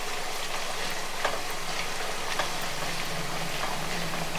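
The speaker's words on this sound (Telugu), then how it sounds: "హై ఫ్లేమ్ మీద పెట్టి బాగా వేపుకోవాలండి" Chips frying in oil over a high flame, a dense, steady sizzle that holds level throughout with faint bubbling crackles scattered through it and no voices.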